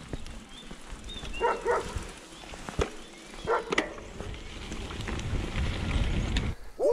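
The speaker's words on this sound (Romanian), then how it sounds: "aici ne întâmpină și câinii de la stână" Shepherd dogs from a sheepfold bark at passing cyclists on a country road. Two short clusters of barks sound at moderate distance over gusty wind noise and rolling bike sounds, with no one speaking.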